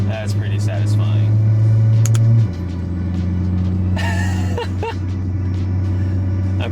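A BMW G-chassis car driving in Sport Plus mode, a steady low engine drone heard from inside the cabin that drops in pitch partway through, with brief clicks and road noise and no one talking.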